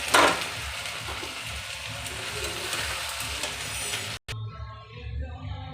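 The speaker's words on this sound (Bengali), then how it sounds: "এবার দিলাম একটু লঙ্কা দিয়ে এটাকে নিরামিষ তরকারি তো একটু নাড়বো ভালো করে" Vegetable curry with chili and cumin being stirred in a hot pan, producing a close, continuous sizzle and frying hiss. A short cut near the end is followed by quieter, duller frying.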